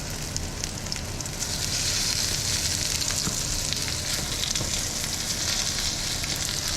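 Potatoes for a Spanish omelette (tortilla) fry in a pan, giving a steady, dense sizzle with fine crackling that holds evenly throughout, close and fairly loud, with no talking.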